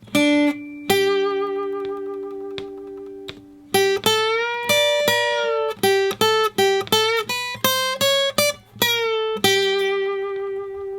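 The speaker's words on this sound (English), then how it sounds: "now playing the entire first guitar solo at a nice slow tempo" An electric guitar plays the first solo from a song: a slow, clean melodic line of sustained single notes with pitch bends and short pauses, moving step by step at a relaxed tempo, played alone.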